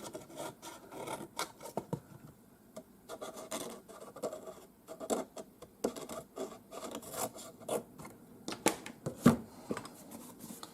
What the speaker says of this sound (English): get my scissors, I'm just going to cut that corner.